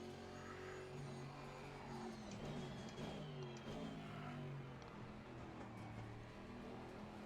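An Aston Martin GT4 race car engine at Suzuka in a racing video game, a steady mid-pitched drone with shifting harmonic bands as the revs rise and fall through a corner, loud and continuous with no talk.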